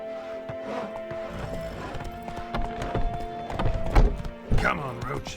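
A horse galloping in the video game The Witcher 3, its quick hoofbeats thudding under game dialogue and a neigh, with a few heavy thumps toward the end.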